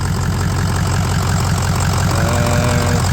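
A 2004 Ford F250 with a 6.0 diesel engine, EGR deleted and fitted with dual alternators, idling close by with a loud, steady, rumbling clatter throughout.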